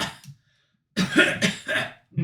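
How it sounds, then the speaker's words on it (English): A cough near the start, then after a short silence a burst of harsh, rasping coughs from a nearby person, followed by another cough. "And you hear coughing and stuff like that"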